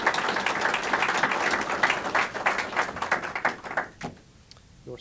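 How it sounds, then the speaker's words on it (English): Audience applause at a Stockton police swearing-in ceremony, dense clapping that thins to a few scattered claps and then quiets. "give him a round of applause"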